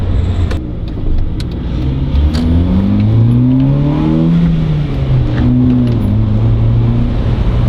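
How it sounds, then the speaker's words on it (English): A Honda Jazz with a DIY intake mod revs up on a test drive, its engine note climbing and falling in smooth sweeps as it accelerates. The engine sounds loud and close throughout, with no talking. "it almost sounds like I got an aftermarket exhaust system"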